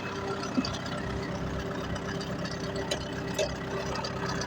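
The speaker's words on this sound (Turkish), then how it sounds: "Evet, traktör sürüyorum." Continuous low rumble of a tractor engine running steadily, with a few small clicks and knocks over the drone.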